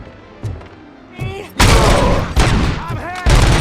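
Heavy gunfire in the video game RoboCop Rogue City, starting with a few scattered shots and then breaking into a loud, dense volley of close blasts, with voices heard faintly amid the shooting.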